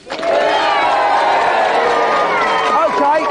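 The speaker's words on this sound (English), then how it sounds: "Give them a big round of applause." A loud television game show studio audience cheers and shouts with some clapping, a dense wall of voices sustained throughout.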